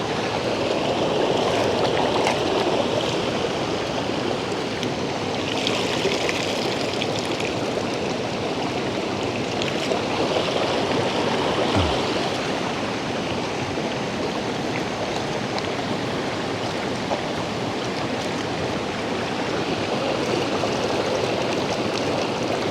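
Clear river stream flowing steadily at a riverside campsite while rice is washed in cold water, a continuous broadband rush of running water, close and even, with no voices.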